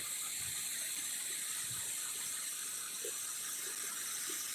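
Water from Ujani Dam rushes and pours into the Ardhanari-Machnur weir in a steady, even roar, a constant gushing flow heard from a distance with no voices.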